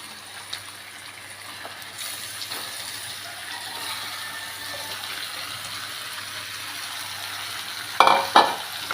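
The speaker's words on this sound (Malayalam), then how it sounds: "ചിക്കൻ നമ്മൾ നന്നായിട്ട് ഒന്ന് വഴറ്റി കൊടുക്കണം" Marinated chicken sautés in a pan of raw tomato and chilli masala for a Kerala-style country chicken curry, a steady hiss running throughout, with a couple of louder clattering scrapes near the end.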